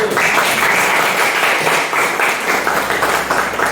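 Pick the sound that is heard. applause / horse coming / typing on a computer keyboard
applause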